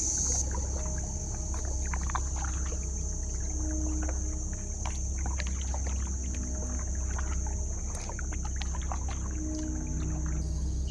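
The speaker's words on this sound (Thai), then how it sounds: "เราก็จะมาพายไปยังจุดที่หนึ่งกัน" Kayak paddling toward the mouth of a sea cave on a Krabi trip, with a steady watery wash and wind, irregular soft splashes of paddle strokes, and a constant high hiss throughout, no talking.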